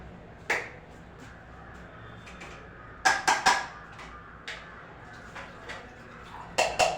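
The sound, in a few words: washing milk and tea utensils in kitchen sink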